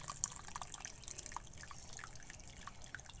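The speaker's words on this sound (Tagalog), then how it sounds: "Nilalagyan ko na po ng tubig na mainit." Hot water poured into a cup of 3-in-1 instant coffee, a soft, steady trickle and dribble of liquid running throughout, quiet and close with no talking.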